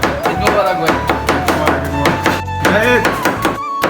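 Onions are chopped on a board in quick, rhythmic knife thunks at a festive Eid day gathering, with voices talking over the cutting throughout.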